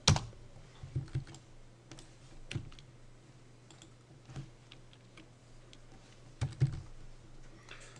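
Keyboard keys and mouse buttons clicking at a computer during architectural drafting work, scattered taps and clicks over a low steady hum, with a few louder bursts near the start and toward the end.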